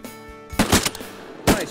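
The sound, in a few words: shotgun shots at ducks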